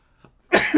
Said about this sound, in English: because I just sneezed